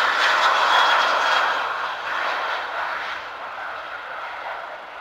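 A private propeller aircraft at Doncaster Robin Hood Airport preparing for takeoff, its engine droning steadily and fairly loud throughout, easing slightly in level partway through, with no voices.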